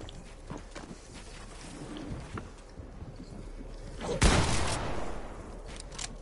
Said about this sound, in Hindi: हवा में गोलियां भी मारता हूँ भाई